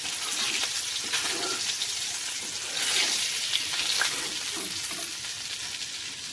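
Hilsa fish mustard curry bubbling in a pan, a steady soft sizzle and simmer with gentle popping, close and continuous without speech.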